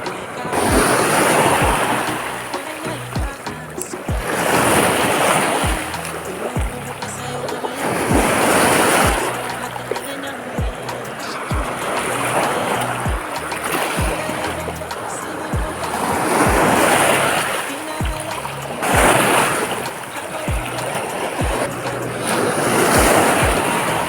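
Waves on a slightly rough sea wash against a boat in steady surges, with broadband water noise swelling and easing in a regular rhythm alongside wind buffeting the microphone.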